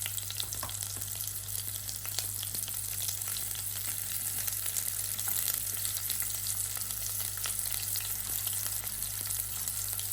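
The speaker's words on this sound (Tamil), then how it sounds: "இனி ரொம்ப கருவேப்பிலை போடுவோம்." Curry leaves dropped into hot oil for a Batticaloa-style milakuthani kulampu crackle and sizzle in a dense, continuous spatter, fairly close and even throughout with a faint low hum beneath, no talking.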